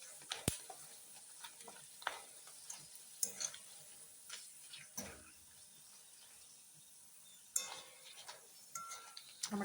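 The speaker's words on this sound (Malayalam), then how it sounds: "ഇനി നമുക്ക് കുറച്ച് ചിപ്സും കൂടി വറുത്തെടുക്കാം." Potato chips deep frying in hot oil, a steady soft sizzle with crackling pops and scattered stirring clinks of a utensil against the pan throughout.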